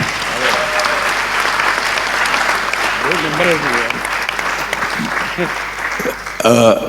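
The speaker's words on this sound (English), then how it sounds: "I think this requires a much louder thumping clap." A townhall audience breaks into loud, sustained applause that fills the room, with a voice speaking over the clapping as it continues.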